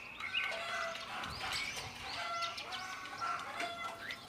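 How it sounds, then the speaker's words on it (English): Free-range local Nepali chickens cluck and call on a farm, with several birds overlapping in steady close-up chatter and a brief flutter of wings, no voices. "So they hear other chickens sound, that's why they all are attention there."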